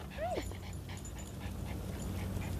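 A dog lets out a short high whimper near the start, followed by soft panting and faint shuffling nearby, fairly quiet, with no talking.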